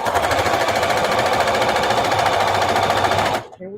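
A sewing machine stitches old jeans fabric scraps in a fast, loud, continuous mechanical rattle that runs for about three seconds and then stops abruptly, leaving faint handling sounds.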